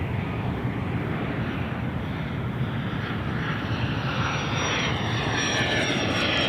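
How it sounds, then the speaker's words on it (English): A small Cessna Citation business jet at Boeing Field, loud and continuous engine roar with a rising high whine, heard from nearby without talk. "Cessna Citation."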